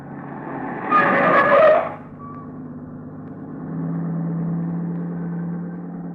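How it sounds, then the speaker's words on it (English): A car passes on the road in an old-time radio drama, a brief swelling rush of engine and tire noise rising and fading within a couple of seconds, followed by a steady low engine hum of the listeners' own car. "That car that just passed."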